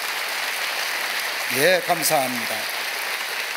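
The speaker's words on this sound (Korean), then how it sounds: "여러분 크게 박수로 환영하시기를 바랍니다." A church congregation at a Korean Sunday service applauds to welcome visiting guests, a steady wash of clapping that lasts throughout while a voice speaks briefly over it.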